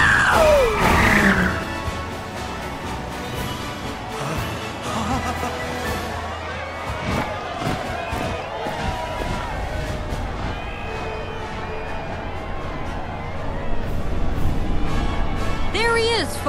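Parade crowd noise in the video game Final Fantasy VII Rebirth, as Midgar's mobile unit and President Rufus Shinra pass: a busy mix of cheering, shouts and clatter with a bright whistle-like sweep at the start and music under it.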